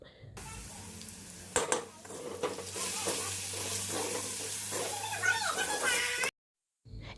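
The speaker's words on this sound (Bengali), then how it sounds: "তো এখন সবগুলিকে আরও কিছুক্ষণের জন্য ভেজে নিচ্ছি ও সাথে লঙ্কা বাটাও দিয়ে দিলাম" Potatoes frying in a pan with turmeric, salt and chili paste, a steady close sizzle broken by a few sharp scraping stirs, with faint children's voices in the background before the sound cuts off.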